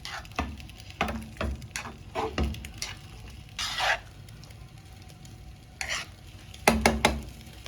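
A spoon scrapes and stirs through mutton biryani in a pot, in short, uneven strokes with pauses between, close and soft.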